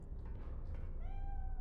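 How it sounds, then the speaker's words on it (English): A pet cat in the video game Iron Nest gives a single clear, rising meow near the end, heard over a low, steady game background hum. "Gotta pet the kitty."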